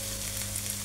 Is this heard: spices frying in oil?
yes